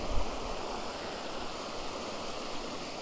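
White water on a trout stream rushes beside a rock wall in an autumn fishing spot, a steady broadband roar that stays even and moderately loud from start to finish.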